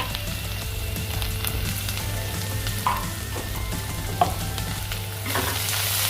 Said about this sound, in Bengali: এখন এটা আমি ভালো করে ভেজে নেব